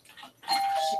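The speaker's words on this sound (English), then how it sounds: "Our doorbell rung." Household doorbell ringing, one short electronic chime with a clear sustained tone after a faint murmur, heard indoors at moderate volume.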